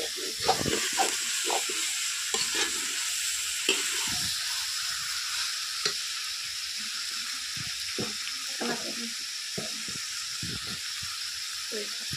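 Pork meat sizzles as it cooks over an open fire, a constant bright hiss dotted with crackles and pops, while people talk intermittently nearby.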